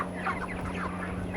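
Chickens kept as favorite birds cluck in a soft, continuous chatter of short calls, close by, over a steady low electrical hum with no talking.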